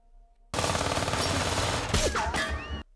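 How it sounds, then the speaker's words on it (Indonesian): Brutal film gunfight between gangsters and bodyguards: a sudden loud burst of rapid automatic gunfire and overlapping shots fills about two seconds, dense and close, with whizzing effects near the end before cutting to silence. "menyebabkan terjadinya adu tembak yang sangat brutal."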